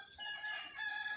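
A rooster crows faintly in the distance on a farm, a drawn-out, wavering call heard outdoors with no talking nearby.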